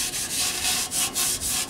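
A Brillo pad scuffs the exhaust area of a Toyota Sequoia before painting a catalytic converter anti-theft deterrent, making a close, steady run of rhythmic rubbing strokes, about five back-and-forth passes with no talking.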